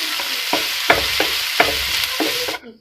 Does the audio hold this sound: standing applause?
no